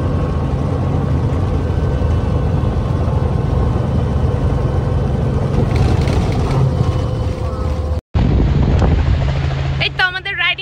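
A helicopter landing on a scenic ride in South Australia, a loud steady engine and rotor drone close by throughout, cut briefly near the end as the noise shifts, with voices faintly present.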